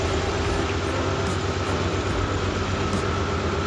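A Ford Bronco engine idles with a steady, continuous low rumble, even and unbroken throughout, close by and with no voices over it.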